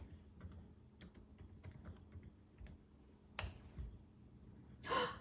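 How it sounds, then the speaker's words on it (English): Fingers type on a computer keyboard, with scattered soft key taps at close range, fairly quiet, and a couple of louder clicks near the end. "I'm going to type in Turtle Search ice cream."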